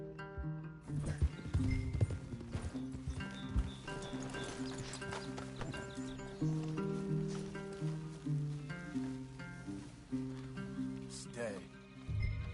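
Horse hooves clip-clop steadily in Red Dead Redemption 2, a rhythmic clatter running under a layered musical score with an occasional whinny.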